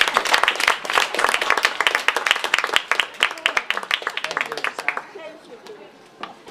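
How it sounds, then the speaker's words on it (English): Audience applause for a speaker at a talk on China and US education, many hands clapping loudly and densely at first, then thinning to scattered claps that fade toward the end. "give him a round of applause"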